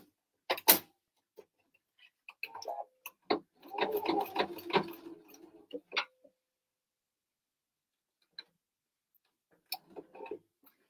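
A home sewing machine stitches a quarter-inch seam allowance across fabric in a quick, dense whirring burst, with a few separate mechanical clicks and short ticks before and after it, fairly quiet and with no talk.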